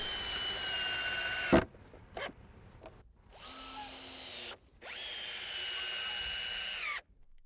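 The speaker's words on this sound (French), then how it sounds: "Pour avancer plus vite, on peut utiliser la perceuse pour visser ainsi les chevrons." Power drill driving screws into wooden rafters during a backyard building job, heard as three close, loud whirring bursts of the motor with short quiet gaps between them.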